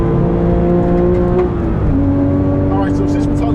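A Porsche 911 GT3 of the 997 generation accelerates on a track, its engine note loud and close, dipping briefly mid-pull before climbing again.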